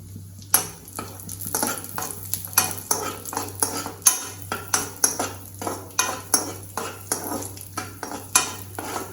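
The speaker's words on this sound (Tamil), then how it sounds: "இந்த நெய் சூடானதும் நம்ம எடுத்து வச்சுருக்க இந்த முந்திரி திராட்சையை வந்து நம்ம போட்டு வறுத்து எடுத்துக்கலாம்" Cashews and raisins fry in hot ghee in a pan while a spoon stirs them, giving steady rhythmic scrapes and clinks over a soft sizzle and a low hum.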